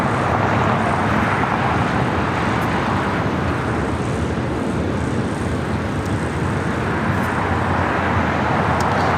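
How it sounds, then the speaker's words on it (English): A Boeing 787-8 Dreamliner airliner taxis at LAX, its engines giving a steady, broad, loud roar that holds evenly for several seconds with no voices. "The Dreamliner continuing down to Bravo."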